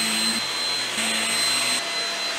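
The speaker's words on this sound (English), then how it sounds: "let's do a little bit more vacuum." A vacuum cleaner runs steadily and loudly nearby during an art studio cleanup, with a constant whirring drone that shifts pitch slightly as it is moved, and no talking.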